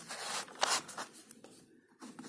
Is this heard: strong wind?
no